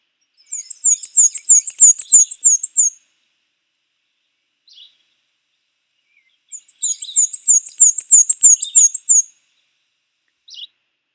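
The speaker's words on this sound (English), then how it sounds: "so that's the black and white warbler" A black-and-white warbler sings two squeaky, high, wheel-like phrases of rapid repeated notes, each lasting about three seconds, with faint chips between, clear and isolated.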